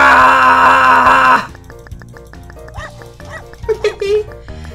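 A cartoon dog in the idle clicker game Ruff Times gives short, chirpy yips and barks over upbeat game music and clicking interface blips, following a loud burst at the start.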